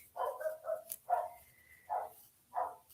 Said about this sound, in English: the dog is letting us know that, hey